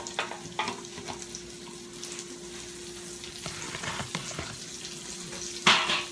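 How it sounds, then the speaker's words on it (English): Onions frying in a pan of leftover hamburger-steak grease for gravy, a steady soft sizzle with occasional clinks and stirring scrapes, and a louder crackle burst near the end. "And now I'm adding my onions to this pan."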